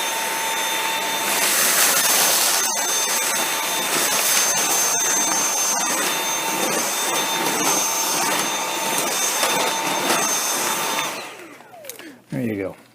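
A Dyson V7 cordless vacuum with a soft roller head runs in low power mode on tile, giving a steady whirring hum with a thin whine on top before it winds down and cuts off near the end.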